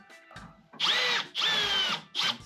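A power drill spins a 3/8-inch bit into metal during a rear suspension upgrade, in two sustained whining bursts of about half a second each, followed by the start of a third, loud and close with short pauses between.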